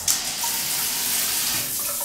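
Water streams steadily from an adjustable hotel shower head, a continuous, fairly loud hiss with no voices.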